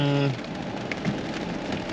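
Steady rain patters on a surface in a misty countryside near Val Marie, Saskatchewan, a close, even hiss of drops; a short tonal hum opens the clip, then only the continuous rainfall remains.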